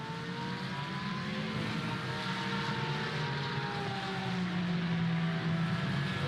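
Porsche race cars battle for the lead at the Jerez circuit in a sim racing game, their engines droning steadily with shifting pitch as the cars run close together, sustained and fairly loud throughout with no talk.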